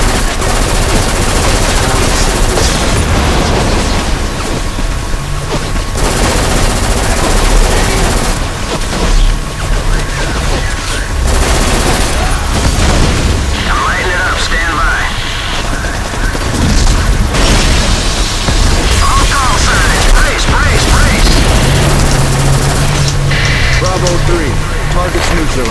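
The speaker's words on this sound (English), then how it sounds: "Shooting at you left and right." Gunfire in the shooter game Black, loud continuous machine-gun bursts and booming explosions layered with mechanical game noise, someone talking over the din throughout.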